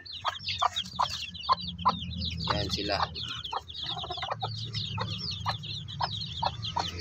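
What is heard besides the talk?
native chicken hen with three-day-old shamo asil chicks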